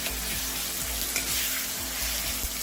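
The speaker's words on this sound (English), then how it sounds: "let these ingredients fry up in the hot oil" Curry ingredients for a jackfruit and shrimp curry crackle and sizzle in hot oil, a steady close frying hiss with soft repeated stirring scrapes, no talking.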